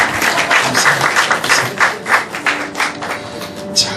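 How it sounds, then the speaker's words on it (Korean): A church congregation claps together in a brief burst of warm applause, dense, fairly close and steady for a few seconds without voices. "뜨겁게 박수 한번 했습니다"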